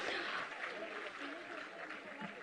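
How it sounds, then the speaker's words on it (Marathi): An audience applauds at a Women's Day award ceremony honouring women. The clapping is a faint, steady wash from a distant crowd throughout. "जरा जोरदार टाळ्या होऊन जाऊ देत मंडळी."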